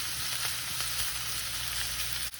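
Tomato paste frying with ground beef in a skillet, a steady, loud, dense sizzle that hisses on without pause, close up, with a brief clink at the end.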